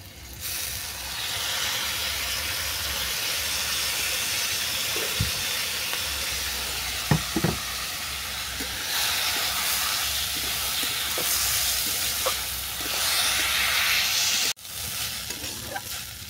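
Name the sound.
washed rice frying with spices in a pan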